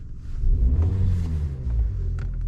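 A Kia Sportage with a fault where it will not start, its engine given a quick sharp rev, the low rumble swelling and then easing off, close by and without talk.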